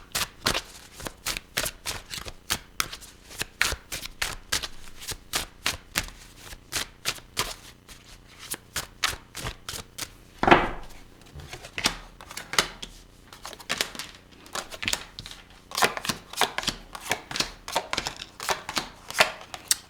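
Tarot cards are shuffled by hand in a long run of crisp, rapid riffles and slaps, close and loud, with irregular rhythm and a sharper knock partway through.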